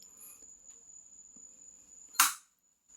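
A single sharp relay click inside an ice and water vending machine rings out near the end over a steady high electrical whine and faint background hum.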